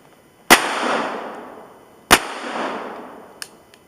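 Two sharp, loud Taurus PT22 pistol shots firing Winchester Super X .22 ammunition outdoors in the mountains, spaced about a second and a half apart, each ringing out in a long echoing decay, followed by a faint metallic click.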